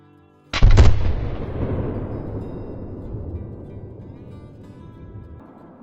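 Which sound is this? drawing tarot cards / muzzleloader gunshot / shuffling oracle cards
muzzleloader gunshot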